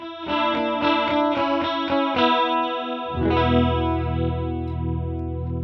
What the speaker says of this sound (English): So on the modulation side, there's a chorus.